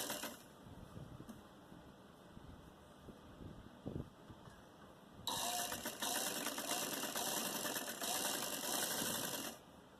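A sewing machine stitching buckram onto a salwar, starting with quiet handling and a brief knock, then running in a sustained close, loud mechanical whir for about four seconds before stopping.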